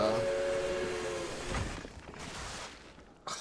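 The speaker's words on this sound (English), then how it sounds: "Train thunders as it grinds to a stop." A train in the game Reverse: 1999 grinding to a stop, heard as a sustained steam-whistle tone over broad hissing and rumble that fades and thins out, ending with a brief sharp burst.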